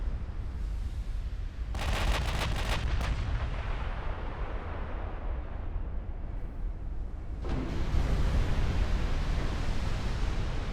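Naval main gun fire in the warship game Ultimate Admiral Dreadnoughts: a loud cluster of booming shots rolls into a long rumbling decay, then a second heavy blast hits near the end.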